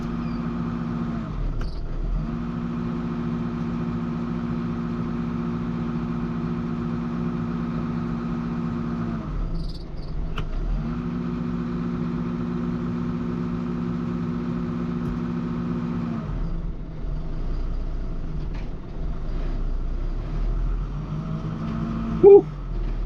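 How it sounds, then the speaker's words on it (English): A New Holland tractor engine runs steadily at a low, even drone, dipping briefly twice before settling back, with a sharp knock near the end; no one speaks. "So we're gonna rev it up a little."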